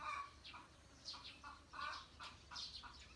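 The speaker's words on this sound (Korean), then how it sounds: "그래, 닭아 실컷 울어라." Nearby rooster calling in short repeated bursts of crowing and clucking, with a few wing flaps mixed in and no talk.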